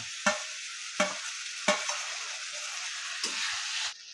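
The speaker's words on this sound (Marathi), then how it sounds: "आणि कांदा टोमॅटो ते चांगलं परतलेलं आहे. मस्तपैकी तेल सुटलेलं आहे पहा." Onion and tomato sauté in oil for soybean bhurji, with a steady close sizzle broken by four sharp scrapes of a spoon stirring the pan at irregular intervals, and no voices.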